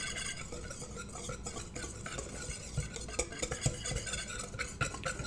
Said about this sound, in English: We want to give this a quick mix, everything mixed up in here